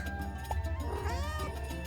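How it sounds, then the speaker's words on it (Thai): A cartoon cat gives a faint, short meow over a low constant hum and background sounds. "เจ้าแมวตัวนี้ชื่อคานิกา"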